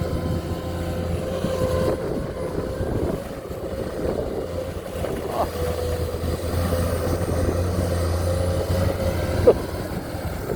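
A Komatsu 210 excavator, model 10 M0, idles with a steady low diesel drone and a constant hum, with no speech over the engine.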